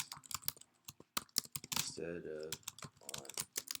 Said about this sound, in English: but I'm typing it in